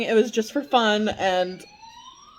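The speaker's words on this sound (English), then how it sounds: "Sorry, there's a siren in the background." A siren wails in the background while a person talks over it, the tone faintly rising and lingering as the speech stops.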